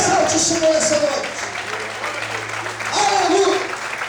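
Church congregation applauding together during a Portuguese-language evening worship service, a steady wash of clapping that swells and fades, with a preacher's voice speaking over it.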